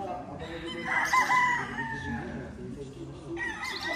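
A gamefowl rooster crows once, loud and close, its strained call rising over a steady yard background while someone talks nearby.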